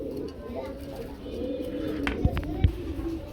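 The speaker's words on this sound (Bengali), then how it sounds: "এক জোড়া বিউটি হুমা কবুতর দেখতে পাচ্ছি ভাই" A pair of white Beauty Homa pigeons gives soft, low coos close by at a pigeon sale, with two brief sharper coos near the end and a murmur of voices in the background.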